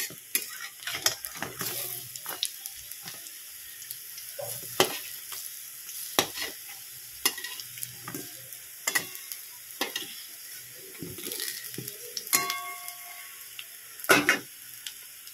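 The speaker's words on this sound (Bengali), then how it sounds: "সাদা তেলে ভাজছি আজকে, সরষের তেল না।" Gram flour fritters frying in white oil in a kitchen pan, with a soft sizzle under scattered clinks and scrapes of a utensil.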